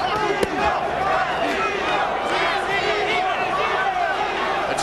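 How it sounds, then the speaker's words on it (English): A boxing arena crowd at the Mayweather vs Castillo rematch chants Castillo's name half-heartedly in the 11th round, a steady, rolling crowd roar under a commentator's talk. "the chant Castillo, Castillo is a bit half-hearted down the stretch of the 11th"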